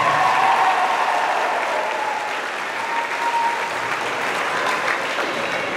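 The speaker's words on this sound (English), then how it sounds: "Give them all a round of applause." An audience at a hypnosis show in Punta Cana gives sustained, loud applause, a steady wash of many hands clapping for several seconds, with little talk over it.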